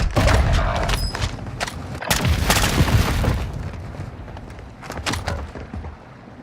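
Heavy booming blasts and crackling bursts from an airstrike in Call of Duty Warzone, loud and dense in the first half and then thinning to scattered rumbles, with a radio voice talking over part of it.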